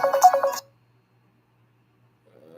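Telephone line tones on a radio call-in show: a short burst of ringing or dialing tones in the first half second, then silence, then faint activity near the end as the call connects.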